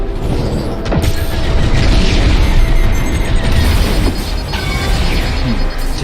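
Missile explosions in a Star Wars: Squadrons space battle, loud booming blasts layered over dense mechanical rumble and metallic clanks, continuous and close.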